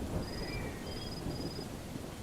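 Steady rain and low rolling thunder fill the background of a ghost story, a dense continuous wash with faint high whistling tones drifting above it, with no voices.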